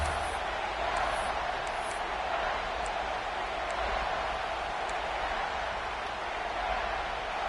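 A stadium crowd in a Madden football video game roars as one broad, continuous wash of noise on a third-down play, a steady, fairly loud rumble of cheering with no single voices standing out.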